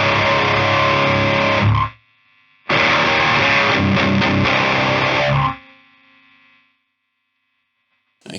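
Electric guitar played through a Freedman Demonfx pedal into a Victory Kraken amp, two loud sustained distorted chords with a brief gap between them, each ringing out and then cut off, leaving faint amp hiss.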